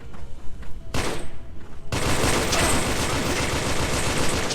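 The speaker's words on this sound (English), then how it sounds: "I'm getting shot from the right as well." Sustained automatic gunfire in the VR shooter Special Force VR: Infinity War, with rapid bursts early on and then a continuous, dense roar of shots filling the rest of the clip.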